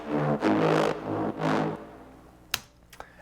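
A Serum synthesizer mid bass for drum and bass plays two swelling, growling sustained notes, followed by a couple of sharp clicks and a faint tail.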